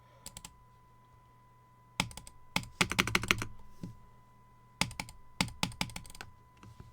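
Computer keyboard keys are pressed in quick bursts of clicks while gaming, close and clear with short pauses between flurries, no talking.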